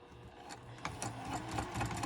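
Sewing machine stitching a seam on a double-pocket wristlet clutch, a steady close mechanical whirr with rapid needle chatter running continuously.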